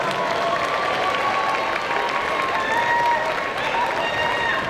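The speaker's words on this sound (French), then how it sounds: "On les applaudit bien fort, s'il vous plaît." A cosplay contest audience at the Made in Asia 2023 convention breaks into steady, dense applause for the jury, loud and continuous throughout with a few scattered voices mixed in.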